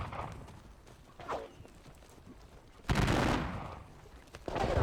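Opportunity fire crackles from musket volleys during a Napoleonic-era battle in a strategy video game, with a couple of bursts of massed gunfire, the loudest arriving near the middle and another at the end.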